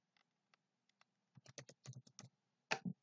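Computer keyboard typing, a scattering of soft isolated keystrokes that builds into a quicker burst of clicks, ending with a couple of louder key presses, close and quiet with no talking.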